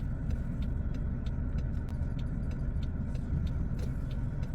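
A car slowly reversing into a parking spot during a road test in Lower Sackville, Nova Scotia, gives a steady low engine rumble with faint regular ticking, heard from inside the vehicle, alone with no talking.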